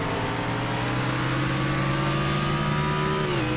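Race cars in the Save Mart 350 sim racing game revving hard through the gears, a loud continuous engine whine with rising pitch sweeps and a shift near the end.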